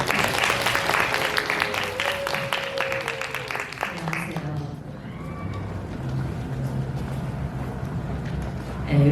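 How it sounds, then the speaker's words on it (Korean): An audience at a college animation class-review session applauds for about four seconds, the clapping dense and fairly close, then fades into a quiet hall hum with faint voices. "박수 부탁드립니다."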